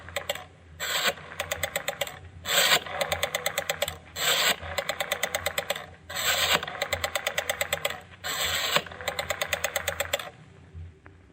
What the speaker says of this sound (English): You listen carefully as he dials.